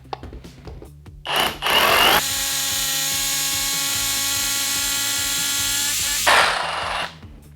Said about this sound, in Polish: Mam założone wiertło 12 na wiertarce i biorę się za wiercenie.